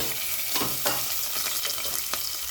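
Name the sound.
sesame, green chilies, turmeric and ginger sizzling in hot oil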